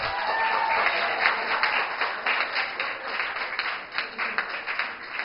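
Audience applause follows an orator's speech, a fairly faint, sustained patter of many hands clapping that slowly thins out, with a muffled, band-limited quality.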